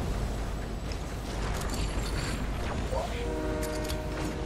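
A train rumbles steadily in the Fortnite battle royale, with a horn sounding in sustained tonal blasts toward the end, mixed with other game noise and muffled chatter.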